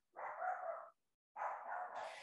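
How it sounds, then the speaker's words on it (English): A dog barks twice, loud and close, with a short pause between the two barks and near silence around them. "if you can hear my dog barking"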